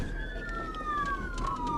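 A trooper's police car siren on a highway pursuit wails steadily and slowly dips in pitch over constant road and engine rumble, fairly loud with no talk.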